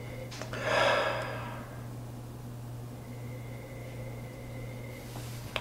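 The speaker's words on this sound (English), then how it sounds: "So let's take a sniff" A person takes a single audible sniff of a strong pumpkin beer at close range near the start, followed by quiet room tone with a steady low hum.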